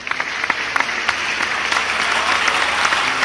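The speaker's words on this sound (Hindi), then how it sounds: "मैं सर्वाधिक तालियां कानपुर से लेकर जाना चाहता हूं।" Dense applause from a large audience at a political rally in Kanpur, a steady wash of clapping with scattered sharper claps, sustained and fairly loud throughout with no voice over it.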